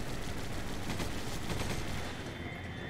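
Two miniguns fire in Resident Evil 5, a dense, loud, continuous stream of rapid gunfire with no break in its rattling.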